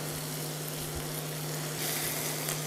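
Onion sizzles steadily in a pan of hot oil, a continuous close frying hiss with a low hum underneath, slightly louder toward the end, with no voices.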